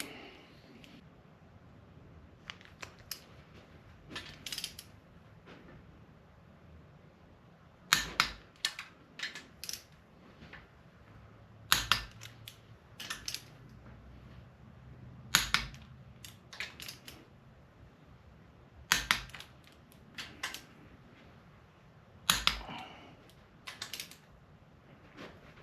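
Sharp metallic clicks from a torque wrench tightening bolts on a 2010 Subaru Forester engine being repaired after a broken timing belt, coming in irregular bursts of one to several clicks against a quiet workshop background.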